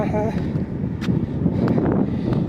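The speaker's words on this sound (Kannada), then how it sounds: "ಗಾಳಿ ಏನು ವಾತಾವರಣ" Wind rumbles against the microphone in uneven gusts under a man's nearby speech.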